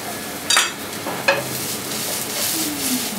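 Apple sticks sautéing in a pan with a little olive oil: a steady soft sizzle close by, with two sharp clinks of utensil against pan.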